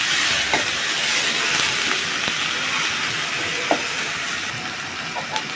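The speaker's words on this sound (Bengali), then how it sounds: "রসুন কুচি দিয়ে দিলাম, একটু লাল লাল করে ভাজে নিতে হবে।" Chopped garlic, onion and ginger frying in a pan, a constant bright sizzle and hiss with occasional light stirring taps.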